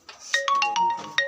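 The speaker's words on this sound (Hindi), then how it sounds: "फोन आ गया" A phone ringtone for an incoming call plays a quick, bright melodic chime phrase, clear and close, with no talking over it.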